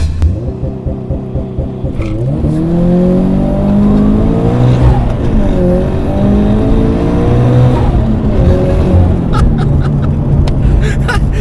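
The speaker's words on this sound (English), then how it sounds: "And that's the launch control." A turbocharged Toyota GT86 with an HKS turbo kit, making 320 bhp, burbles at idle, then surges into a loud launch-control start, revs climbing and dropping through quick gear changes as it accelerates hard.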